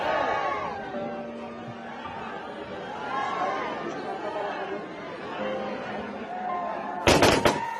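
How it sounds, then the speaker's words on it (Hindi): Crowd chatter murmurs for several seconds, then a short, sharp volley of rifle gunfire cracks out near the end, a military salute fired into the air at a soldier's state funeral. "हवा में गोलियां चलाकर सैनिक सलामी दी गई।"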